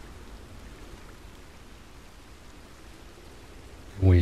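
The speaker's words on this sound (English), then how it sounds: "Why is the rain so heavy in that direction?" Steady downpour in Red Dead Redemption 2 hisses evenly as a constant wash of rain noise, moderately loud and without pauses, cut off by a brief sharp sound at the very end.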